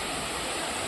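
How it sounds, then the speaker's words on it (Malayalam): Thommankuthu waterfall near Thodupuzha pours in a steady, dense roar of falling water, close and continuous with no voices. "വെള്ളച്ചാട്ടം"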